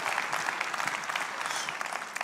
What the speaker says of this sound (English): Applause for my friend King James.